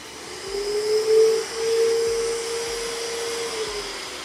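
A Dreame Trouver M1 robot vacuum cleaner drones steadily and close. Its motor whine rises and falls as the suction power shifts while it cleans a room, with no voices.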